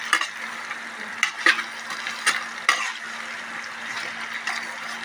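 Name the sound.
frying and stirring spices for pickle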